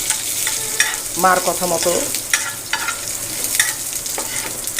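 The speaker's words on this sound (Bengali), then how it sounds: "রসুনটা একটু লালচে করে ভাজার পরে আমি শাকটা ভেজে নেব।" Greens and garlic frying in a pan, with a steady sizzle and the scrape and clatter of stirring, including a burst of metallic clinks partway through, while a voice speaks briefly.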